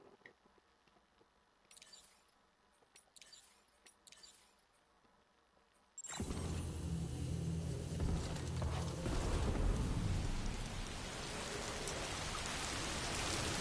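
Heavy rain in a video game starts suddenly partway through and stays loud and steady as a dense wash, after a quieter stretch of faint mechanical clicking and ratcheting.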